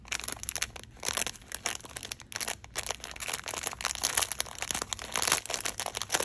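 Crinkly plastic bag holding a makeup sponge rustles and tears as it is opened in irregular bursts, close up and fairly loud, with brief pauses between handling sounds.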